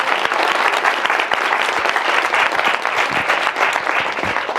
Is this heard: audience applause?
yes